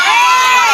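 A group of children at a birthday party cheers loudly after a clown's magic trick, a brief, close burst of high excited shouting.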